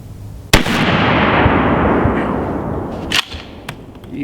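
A single loud shotgun blast from a Remington 870 SPS Super Mag firing a heavy turkey load outdoors, with a sharp crack followed by a long rolling echo that fades out, then a clack of the action.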